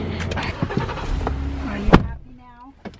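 People climb into a parked car at the Reno airport: close rustling and shuffling, a solid door thud near the middle, then a quieter pause with a brief motor whine.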